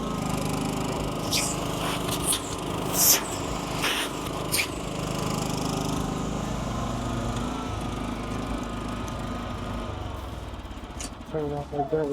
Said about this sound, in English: Start vacuuming.